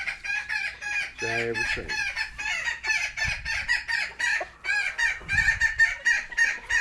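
A homestead rooster crows loudly and close by in repeated strained calls, with brief clucking, while someone talks excitedly over it almost throughout.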